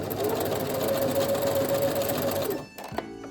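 Sewing machine backstitching on lingerie fabric, a fast close mechanical whir running steadily for about two and a half seconds before stopping abruptly, followed by a faint click.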